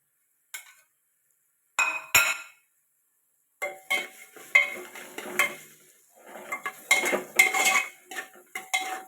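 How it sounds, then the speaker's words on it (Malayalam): A spoon stirs three sliced onions in a pan for biryani, giving sparse metallic clinks and scrapes in short bursts with a light sizzle between them. "നല്ലപോലെ ഇളക്കി യോജിപ്പിച്ചെടുക്കാം കേട്ടോ പച്ചമണമൊക്കെ മാറി ഉള്ളിയൊക്കെ നല്ലപോലെ ഒന്ന് വഴണ്ട് വരട്ടെ"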